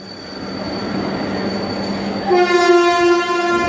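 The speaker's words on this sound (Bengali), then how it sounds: "হুইসেল দিতে দিতে ট্রেন প্ল্যাটফর্মে ঢুকল।" Train pulling into a station platform, loud and close, with a steady rumble and wheel noise, then a sustained whistle-like horn tone joining for the last second or so; no voices.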